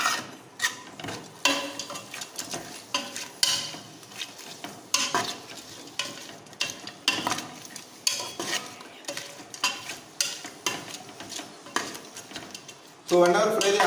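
Onions fry in a pot for vegetable biryani while a utensil stirs them, giving repeated close scraping clanks over a soft sizzle, with a brief louder burst near the end.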